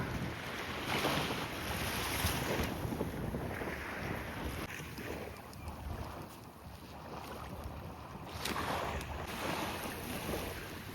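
Waves wash steadily onto a long hotel-lined beach at Constanța, Romania, a continuous broad surf roar with gusty wind buffeting the microphone and a swell near the end.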